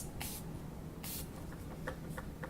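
Makeup setting spray misted onto a face from a travel-size bottle, two short hissing bursts close to the mic with small clicks of the pump between them.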